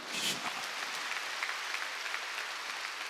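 A church congregation at a Wednesday worship service claps together, a dense burst of applause starting strong and continuing evenly for a few seconds.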